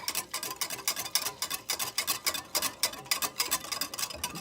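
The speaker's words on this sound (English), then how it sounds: "Whisk." A whisk beats a mixture with hot water while it dissolves, for cheeseburger macaroni. The rapid, even clicks and scrapes against the bowl come close and steady, with no talking.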